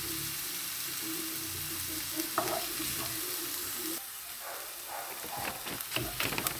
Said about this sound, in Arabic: كما كتشوفو هي تسحرات لينا البصلة ديالتنا.